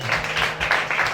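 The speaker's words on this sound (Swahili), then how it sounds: "Mtu ampigie Bwana makofi mazuri sana" Congregation clapping in a church service after a call to praise the Lord, a dense steady wash of many hands filling the room with no voices on top.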